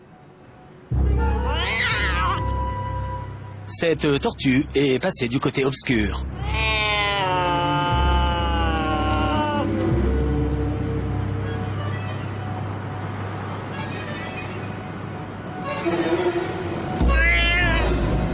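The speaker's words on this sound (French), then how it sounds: "c'est un chat." A cat meows in several bursts, with wavering tonal cries rising and falling, heard under a French-speaking narrator's voice that runs through much of the passage, amid other busy background sounds.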